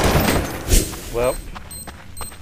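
Pistol shots in Counter-Strike: Source on the Dust 2 map, a few sharp gunfire bursts close in amid game noise and voices talking.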